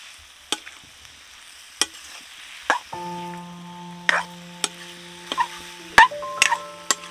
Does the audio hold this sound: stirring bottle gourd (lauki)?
yes